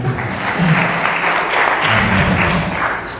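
A church congregation at a men's New Year worship service breaks into sustained applause and cheering, a steady, dense wash of clapping that stays loud throughout.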